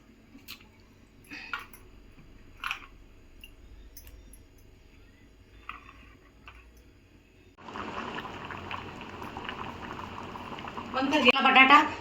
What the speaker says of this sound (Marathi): मी गॅसवरती पाणी ठेवलेलं आहे उकळायला।